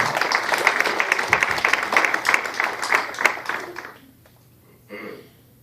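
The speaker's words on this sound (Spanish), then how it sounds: "Aplauda al Señor, iglesia." Church congregation clapping during an evangelistic service, a dense steady burst of applause for about four seconds that cuts off abruptly, followed by a brief faint sound near the end.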